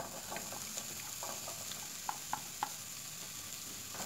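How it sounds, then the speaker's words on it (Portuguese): Garlic and onion sizzle in hot olive oil in a pan, a steady frying hiss broken by a few small ticks and stirring clicks, heard close with no talk. "Já esquentou o azeite, vou colocar agora o alho. E também vou colocar a cebola."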